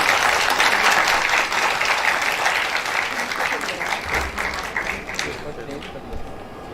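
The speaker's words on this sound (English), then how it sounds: "Please welcome him with a huge round of applause." Conference audience gives a big round of applause for a presidential address, loud and dense at first and then gradually thinning out, with a few voices audible beneath.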